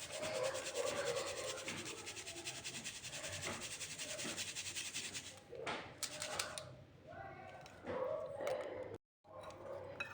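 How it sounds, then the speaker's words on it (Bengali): Sieved sugar and flour are stirred together in a bowl, making a continuous dry rubbing scrape up close, with a brief pause near the end and faint talk in the background. "মিশিয়ে দিলাম এই চিনি আর ময়দাটাকে।"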